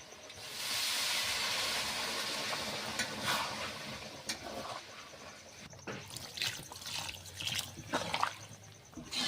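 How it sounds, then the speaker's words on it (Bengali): Water poured into a kadai of browned goat meat curry bursts into a loud, broad steaming hiss, then settles into softer bubbling and gurgling as the liquid heats, heard close with no talk. "তেল বেরিয়ে গেছে তো কষাইটা হয়ে গিয়েছে এবার জল ঢেলে দিচ্ছি"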